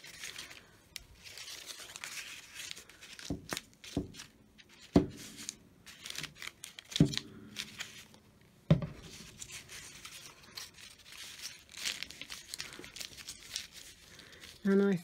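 Brown paper being ripped and crumpled by hand for a collage layer, with sharp intermittent tearing bursts and crinkling close by, under quiet background talk.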